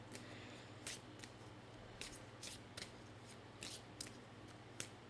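Tarot cards are shuffled and drawn, giving a string of sharp, papery flicks and snaps at an irregular pace over a steady low background hum, with no voices.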